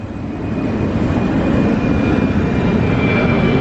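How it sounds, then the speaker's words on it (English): A steady, loud roar of an airplane passing overhead near an airport in Corfu, swelling slightly at the start and then holding a dense, unbroken drone. "And then you can hear the planes overhead because the airport, that's very nearby."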